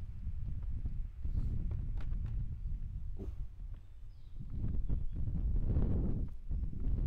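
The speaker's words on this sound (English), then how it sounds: "why is it so windy inside?" Steady wind gusting through an indoor tunnel in the multiplayer survival shooter Bodycam, a low continuous rumble that swells and fades with a few faint clicks and thumps over it.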